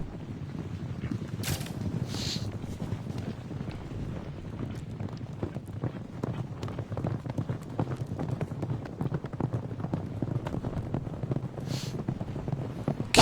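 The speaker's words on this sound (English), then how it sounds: "Green light will illuminate, indicating the horse is running at its most speed." Horse galloping in the video game Gallop Diva during a race, a steady rapid clip-clop of hooves running at top speed, continuous and moderately loud with faint wind-like noise, no talking.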